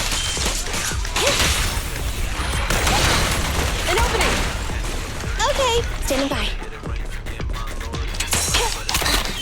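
Rapid bursts of gunfire from enemy shooters in the game Zenless Zone Zero, layered with crashing impacts, swooshes and game effects, while a voice talks over the steady, busy combat din.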